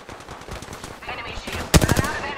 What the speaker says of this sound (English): I'm under fire. They're shooting at me.